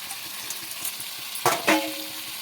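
Boiled jackfruit and potato fry with spices in a pan, making a faint steady sizzle broken by two quick utensil knocks and scrapes against the pan near the end, close and quiet with no speech.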